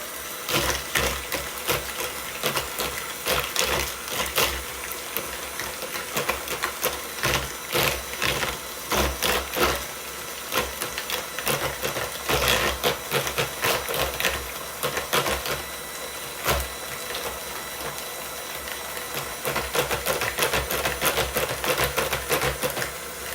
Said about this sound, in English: I'm going to take the mixer and see if I can get it to mix a little bit.